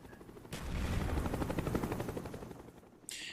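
FAMAS rifle fire in Call of Duty: Black Ops rattles in a sustained rapid burst during a quick triple kill, steady and fairly loud, then cuts off with a brief bright effect at the end.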